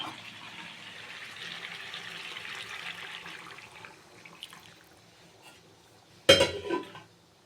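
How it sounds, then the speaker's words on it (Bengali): Hot water is poured into a pot of Bengali chicken curry with potatoes, making a soft, steady splashing pour for several seconds that fades out. Near the end a sharp metallic clank of the pot rings out, and nobody talks. "আমার গরম জলটা দিয়ে দেবো"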